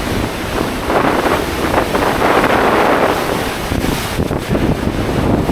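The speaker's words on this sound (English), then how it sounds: "Look at the waves just splash up against the shore." Wind-driven waves from Lake Superior splash against the rocky Isle Royale shore, a loud continuous roar of surf mixed with heavy wind buffeting the microphone.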